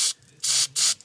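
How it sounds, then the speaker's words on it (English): A can of brake cleaner sprays in three short hissing bursts, loud and close, separated by brief pauses. "give it a spray"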